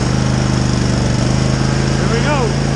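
A Husqvarna zero-turn lawn mower engine runs close by at a steady, loud idle with an even throb, and a voice speaks briefly over it.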